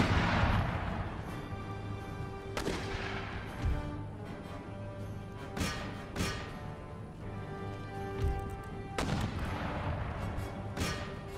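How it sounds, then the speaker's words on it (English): Mortar and artillery fire in the Empire: Total War battle game, repeated booming shots every couple of seconds over a constant rumbling battlefield background, medium-distance and heavy. "Fear my mortars."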